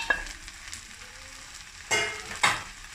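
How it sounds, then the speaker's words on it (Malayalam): Dried herbs, kasuri methi and oregano, added to spicy chicken pasta in a pan, with a soft sizzle beneath two brief stirring scrapes, close and with no talk. "ഇനി കസൂറി മേത്തിയും ഒറിഗാനോയും ചേർത്ത് കൊടുക്കാം."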